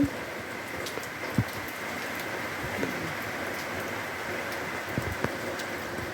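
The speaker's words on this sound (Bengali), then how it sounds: "গুড়ি গুড়ি বৃষ্টি হচ্ছে" Soft, steady patter of light rain with a few isolated drops tapping nearby, no voices.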